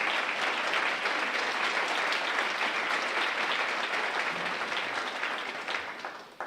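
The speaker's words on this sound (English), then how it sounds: "Give them a round of applause." An audience in a banquet hall at an awards ceremony breaks into sustained applause, a dense, loud wash of many hands clapping that holds steady and then begins to thin out near the end.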